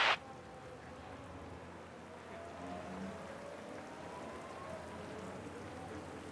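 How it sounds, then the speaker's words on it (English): Steady rain patters and hisses throughout a wet race in the F1 Manager 22 video game, a soft even wash of sound after a brief sharp click at the very start, with no voices. "So it's raining"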